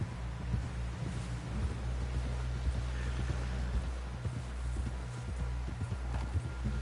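Horse hooves clip-clop at a steady walking pace in Red Dead Redemption 2 on PS4, an even, continuous rhythm of dull thuds on the ground with no voices over it.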